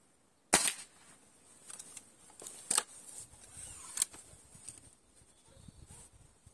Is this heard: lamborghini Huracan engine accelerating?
no